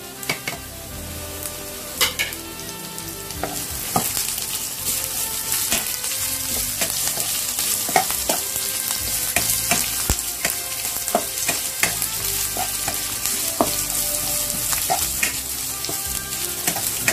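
Green chilies frying in a pan for a clam sorpotel, with loud continuous sizzling and crackling throughout and repeated clinks and scrapes of a stirring spoon against the metal, no talking.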